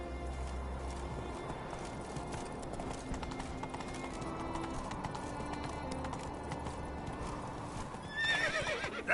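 Hooves pound steadily as Roach gallops in Witcher 3, a continuous rolling rhythm over outdoor game ambience, capped by a sudden loud neigh in the final second.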